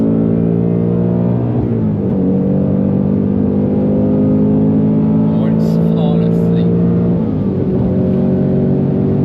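A Steeda Q767 Ford Mustang Dark Horse accelerates at full throttle on the Nürburgring, its engine note loud and droning as it climbs through the gears with brief shifts. Someone speaks briefly over it.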